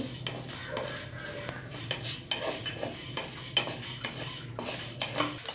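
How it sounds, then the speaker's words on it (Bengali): Rice dry-roasting in a pan for chal bhaja, stirred continuously with a metal spoon: busy, close scraping and clinking over a soft background sizzle. "এখন আমি এই চালগুলোকে ভালোভাবে নেড়ে চেড়ে ভেজে নিচ্ছি"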